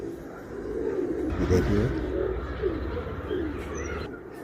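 Pigeons on a rooftop perch coo and rustle their wings in a steady, fairly close murmur, with a brief flap of wings and a short spoken phrase over it.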